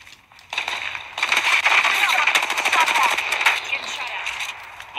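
Rapid automatic gunfire in the video game Apex Legends, a long burst of fast repeated shots close and loud, with brief gaps and voices in the mix.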